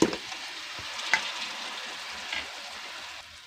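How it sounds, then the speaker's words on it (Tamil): Potato pieces sauté in oil with masala for a beef kofta potato gravy, a close, steady sizzle broken by a few clinks and scrapes of stirring, with no talking. "இந்த கிழங்கு இந்த மசாலையோட நல்லா மிக்ஸ் ஆகுற மாதிரி ஒரு 10 நிமிஷத்துக்கு நல்லா இதை வதக்கி விடுங்க"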